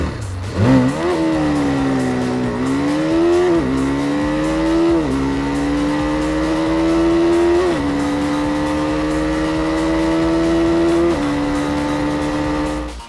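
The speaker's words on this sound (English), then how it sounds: "the BMW doesn't sound that great at idle" A BMW G310 single-cylinder motorcycle revs hard toward its red line, the engine note climbing in several pushes and then holding high and loud, close by, with no talking.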